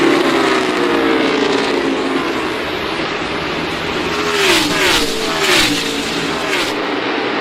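NASCAR Cup race cars on the final lap of a championship race, a loud continuous engine roar with high whining tones that sweep and shift as cars pass, up close.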